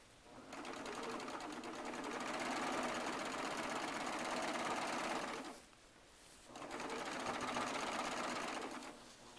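A Baby Lock Triumph serger runs over a short stretch of seam in two sustained bursts of fast, steady stitching, separated by a brief pause, heard up close.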